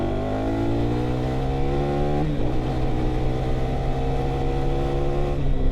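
A KTM 390 Adventure R single-cylinder engine humming under load while riding, holding a steady droning pitch, then dropping sharply as the rider shifts gears, and climbing again. Loud and close, with no voices.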